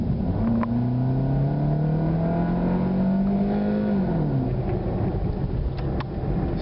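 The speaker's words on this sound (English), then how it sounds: "Hear the engine here." A car engine fitted with a cold air intake alternative revs up, climbs in pitch, then drops back with a loud, close, rumbling note. Nobody talks.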